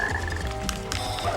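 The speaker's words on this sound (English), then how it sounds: "there's a frog right here" A frog croaks in short repeated bursts in the video game Sonic Heroes, over a steady ambient background of game music.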